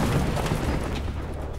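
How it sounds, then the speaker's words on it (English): A missile strikes the stern of the battleship Bismarck, setting off a single heavy explosion that fills the space with a deep, loud roar before it slowly fades. "The violent explosion tears a huge hole in the hull."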